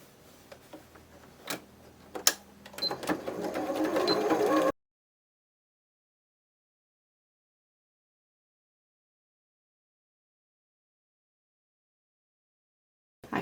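A sewing machine stitching the arms and body of a toy bunny gives a few sharp mechanical ticks, then a short, building run of stitching before it goes silent.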